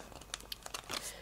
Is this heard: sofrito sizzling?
no